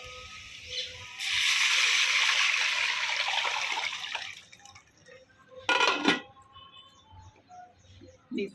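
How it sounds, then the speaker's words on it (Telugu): Dal soup (pappucharu) is poured into a pot on a husk-fuelled stove: a steady, close liquid pour lasts about three seconds, then a short splash follows amid quieter kitchen noise, with no talking. "ఇప్పుడు పప్పుచారు పోస్తున్నాను."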